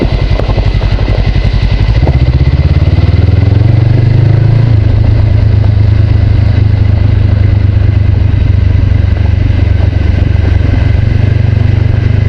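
Motorcycle engine running while riding an old rough, technical road, loud and steady from the rider's position, rising in pitch early on and then holding an even drone.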